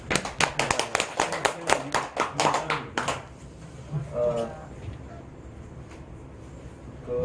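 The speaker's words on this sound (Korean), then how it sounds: "감사의 박수." A short round of applause from a small group, a few seconds of brisk clapping that stops abruptly, followed by quiet room tone and a brief voice.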